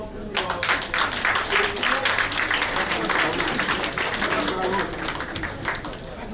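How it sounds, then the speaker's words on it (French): An audience at a regional literature pageant, Miss Littérature Régionale 2019, claps in a dense, sustained round of applause that runs the whole time with crisp individual claps standing out. "Encore des applaudissements"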